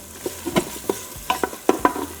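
Utensil scraping and stirring ribs with a serrano chile in a cooking pot, a series of short scrapes and clacks spaced irregularly, with faint sizzling beneath.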